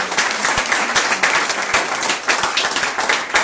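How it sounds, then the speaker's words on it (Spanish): A church congregation applauds together in steady, dense clapping at moderate volume. A few sharper individual claps stand out from the continuous patter. "Quiero que le demos un fuerte aplauso al Señor, porque Él se merece todo."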